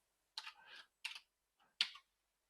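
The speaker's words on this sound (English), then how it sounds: "But if I type in K40 star," Keystrokes on a computer keyboard while entering a search query, in three short quick bursts of clicks with one faint tap between them, close and quiet with no talking.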